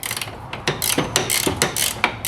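Hand ratchet tightening a suspension bolt on a 1988 Toyota Supra, several quick bursts of sharp, close clicking separated by short pauses.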